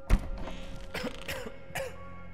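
A person coughs sharply once near the start, then twice more at roughly one-second intervals, close and moderately loud over low game background sound.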